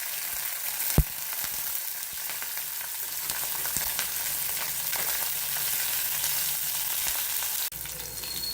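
Dry red chilies and green chilies frying in hot oil with mustard seeds, a steady crackling sizzle throughout with a sharp pop near the start and a brief clatter near the end, no voices.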